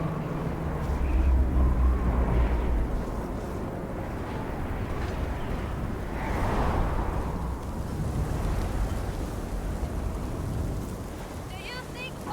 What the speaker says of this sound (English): This part of the game is way too loud because of the snowstorm.